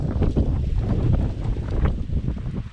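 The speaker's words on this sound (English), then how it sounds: "Oh god, it's windy and it's snowing." Steady, heavy spring wind with snow falling buffets the microphone, a continuous low roar with gusty surges and no speech.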